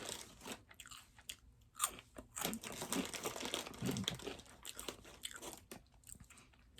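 Regular Flamin' Hot Cheetos being crunched and chewed up close, loud irregular crunches and crinkling bites in quick bursts with no talking.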